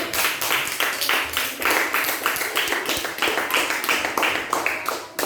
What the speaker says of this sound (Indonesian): Ya, tepuk tangan untuk Ani.